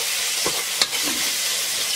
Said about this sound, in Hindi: जिंजर गार्लिक पेस्ट डालने के बाद इसे थोड़े थोड़े से भुनाएं